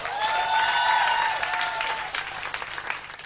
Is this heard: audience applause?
yes